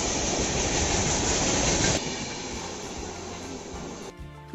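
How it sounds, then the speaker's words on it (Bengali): A train pulls into a railway station with loud, continuous rolling rumble and wheel clatter that eases slightly partway through, with no voices. "এইবার ট্রেন আসবে,"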